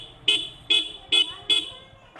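A vehicle horn gives four short, evenly spaced toots in a steady rhythm, loud and close, over a low engine rumble.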